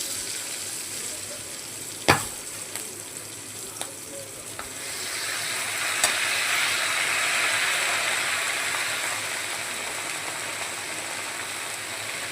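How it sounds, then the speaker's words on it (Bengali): Something fries in a pan for a bottle gourd leaf mash, starting as a quieter sizzle broken by a few sharp clicks of utensils, then swelling into a fuller, steady hiss that lasts to the end; no voices. "দিয়ে ভেজে নেব ভালো করে।"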